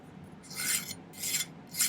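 A hand file rasps across a silver pendant in three short, close strokes, each a bright scraping burst separated by brief pauses.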